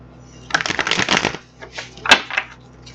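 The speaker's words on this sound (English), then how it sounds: "So I'm going to shuffle these up and see if we can get some more cards to clarify." Tarot cards shuffled by hand in bursts of crisp riffling and slapping, close and fairly loud, a pause, then a shorter flurry of shuffling.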